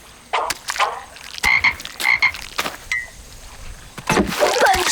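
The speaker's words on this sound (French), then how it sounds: "Bonne chance, les grenouilles." Cartoon frogs croak in a scene of amphibians being set free, a run of short bright croaks and chirps in bursts with brief gaps, fairly loud and close, with other busy cartoon sound effects around them.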